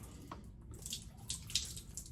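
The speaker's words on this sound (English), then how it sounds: "Put a little water in there." A small amount of water is splashed from a tap into a bowl holding a synthetic shaving brush, faint brief trickles and splashes heard up close in a quiet room.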